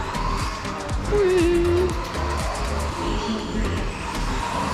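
A racing car with a 17-turn stock motor runs during a practice session at a track, its engine drone rising and falling through the clip with tire noise and people talking over it.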